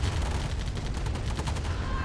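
Minigunner gunfire in C&C Tiberian Dawn Remastered on the Quarry map, rapid overlapping bursts of small-arms shots forming a dense, continuous crackle of battle, loud and steady throughout.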